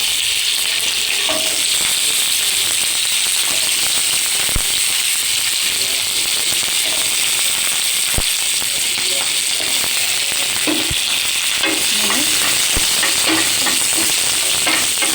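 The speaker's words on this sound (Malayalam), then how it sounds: "എണ്ണ ചൂടായിട്ടുണ്ട്. നമുക്ക് വെണ്ടയ്ക്കതിനകത്തോട്ടിടാം." Okra fries in a little hot oil in a pan with a loud, continuous sizzle, and sharp pops and crackles break through the dense hiss all the way through.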